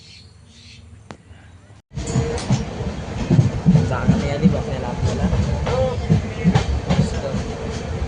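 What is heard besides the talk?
train arriving and running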